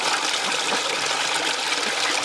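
Water rushing steadily out of the new plumbing outlet of an elevated duck pool, a loud, close, unbroken gushing flow with no talk over it.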